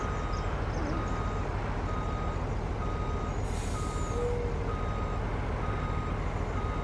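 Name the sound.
truck reversing beeps while backing up, Farm Simulator 19 video game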